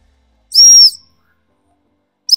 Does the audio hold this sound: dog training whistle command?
yes